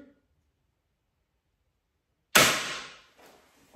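An Adder crossbow fitted with 130-pound standard limbs fires a bolt: one sharp, loud snap after near silence, with a short decaying twang and a faint thud afterward.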